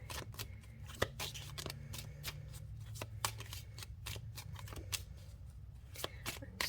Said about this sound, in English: I want to shuffle on camera,